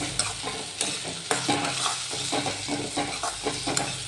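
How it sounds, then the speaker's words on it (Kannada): Chopped onion, tomato and curry leaves frying in hot oil for a brinjal palya, with a busy close sizzle and repeated scraping stirs and clinks of a spoon against the pan, no one speaking. "ಆಯಿಲ್ ಬಿಸಿ ಆದಮೇಲೆ ಹೆಚ್ಚಿಟ್ಕೊಂಡಿರೋ ಈರುಳ್ಳಿ ಟೊಮ್ಯಾಟೊ ಕರಿಬೇವು ಎಲ್ಲ ಫ್ರೈ ಮಾಡಿಕೊಡ್ರಿ"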